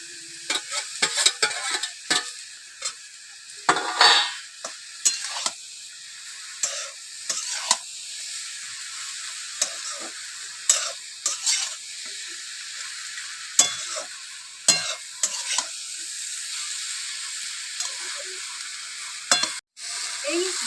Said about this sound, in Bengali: ভাজা মাছের মাথাগুলো দিয়ে আমি ভালো করে নাড়াচাড়া করে এবার ঢাকা দিয়ে রাখবো